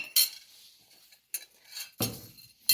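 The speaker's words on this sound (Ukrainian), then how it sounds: "Викладаємо все це у стареньку кастрюлю." Metal clinks and scrapes as ingredients, including coriander and hot pepper, are put into an old pot for shurpa, with a few separate sharp knocks of utensil on cookware and quiet gaps between.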